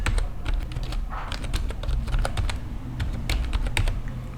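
Keys clatter on a computer keyboard as a username is typed into a Proton VPN login, steady irregular clicks close by over a low background hum, with no talking.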